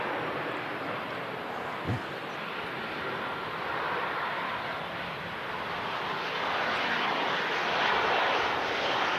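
An EasyJet Boeing 737-800 with split scimitar winglets rolls out after landing at a windy Manchester Airport, a steady broad jet roar holding at a distance throughout, with no voices.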